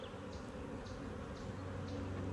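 Honey bees buzzing over hive frames, a dense continuous drone from many insects close by with faint lighter wing passes.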